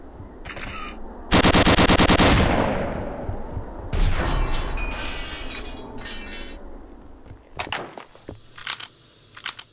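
Turret gunfire in the shooter game Gunman Chronicles comes as loud rapid automatic bursts with crashing impacts, followed by a fading rumble and later a few scattered sharper shots.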